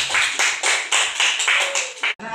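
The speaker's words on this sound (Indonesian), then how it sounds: "berikan tepuk tangan untuk kelompok 3" A classroom of schoolchildren claps for a group of classmates returning to their seats, bursts of rhythmic hand claps rising and falling together, close and fairly loud, ending with a brief pause.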